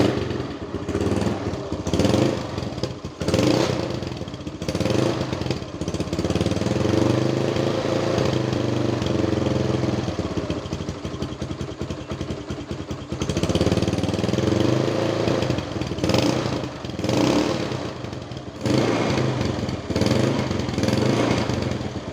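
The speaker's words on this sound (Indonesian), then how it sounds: "suara motor si Mia dengan kondisi knalpot bawaan dari pas gue beli motor ini" A Yamaha Mio motorcycle with its stock factory exhaust runs close by, a steady raspy engine drone that swells and dips in a few revs over about twenty seconds, with no talking.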